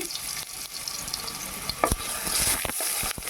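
Small cut potato pieces fry in hot oil in a pan, a steady close sizzle running throughout with a few sharp clicks and stirring knocks partway through.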